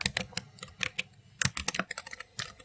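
Quick clacking keystrokes on a computer keyboard while a new name is typed, an irregular close burst of taps with no speech.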